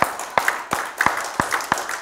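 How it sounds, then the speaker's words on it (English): A church congregation claps together at a Sunday service, producing sharp, even hand claps at a steady beat of roughly three per second. The claps sound close and full, with no voices heard. "Give the Lord a hand clap this morning."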